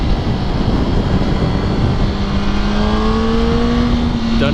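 A small motorcycle riding past, its engine drone rising in pitch as it goes by, loud and close over steady road and wind rush.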